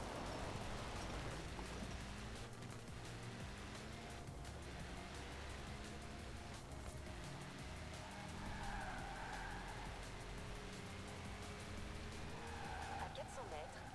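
Tires skid and squeal on a car in the racing video game Forza Horizon 4, a continuous grinding slide under engine noise with short screeches near the end, while someone talks over it.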